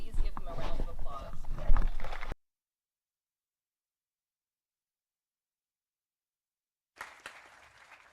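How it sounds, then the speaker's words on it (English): An audience applauds the class historian at the AFNORTH Class of 2025 graduation ceremony, with a dense burst of clapping for about two seconds before it cuts off abruptly, followed by a faint trailing bit. "Please give him a round of applause."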